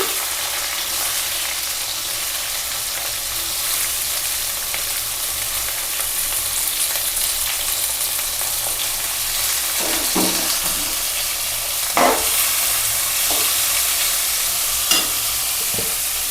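Onions frying in a pan with curry leaves, a loud unbroken sizzle heard close, with a few scraping stirs near the end and no one talking.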